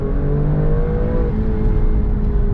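A 510 bhp Alfa Romeo Stelvio Quadrifoglio engine revving hard and accelerating, a loud steady roar that climbs in pitch, close by.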